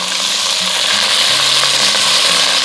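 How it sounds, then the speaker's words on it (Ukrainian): Meat browning in a little oil in a cauldron for pea soup, a loud, close, continuous frying sizzle with faint stirring and no talking. "висипаємо наше м'яско. Обсмажуємо."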